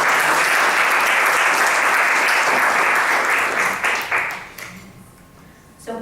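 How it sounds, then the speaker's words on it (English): Loud, dense applause from an awards event audience, sustained for several seconds before fading out. "Please let's give a round of applause."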